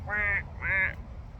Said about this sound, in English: Her beak is closed, and when she's breathing, it sounds like a goose.